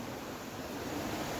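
Steady broadband rush of flowing stream water near Kurangani, Bodi, Theni district, continuous and even, with no other sounds standing out.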